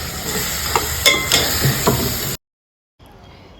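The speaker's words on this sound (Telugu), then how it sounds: "అయ్యాక ఆల్రెడీ మ్యారినేట్ చేసి పెట్టుకున్న పీతలు అందులో యాడ్ చేయాలి." Marinated crabs frying and being stirred in a pan for a tangy crab curry, a loud steady sizzle with scraping stirs for a couple of seconds, then a sudden cut to a quieter, fainter sizzle.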